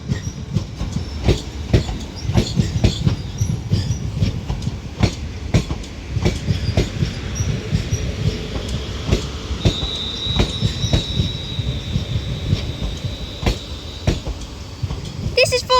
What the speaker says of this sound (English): This is forming the 10:41 London Northwestern Railway service to London Euston